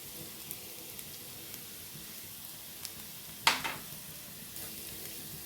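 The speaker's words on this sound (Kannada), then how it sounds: "ಈರುಳ್ಳಿ ಫ್ರೈ ಮಾಡ್ಕೊಳ್ಳೋಣ ಫಸ್ಟ್ ಈರುಳ್ಳಿ ಹಾಕ್ಕೋತೀನಿ ಈ ಬೆಳ್ಳುಳ್ಳಿ ಹಾಕ್ಕೋತೀನಿ" Onion, garlic and ginger frying in a pan for a soy and spinach gravy: a faint, steady oily hiss with one sharp utensil clink midway.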